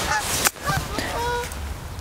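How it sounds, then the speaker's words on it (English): Geese honk outdoors on a foggy golf course, a few loud nasal calls overlapping near the start and then fading into softer, scattered honks over a steady outdoor background. "Excuse the birds"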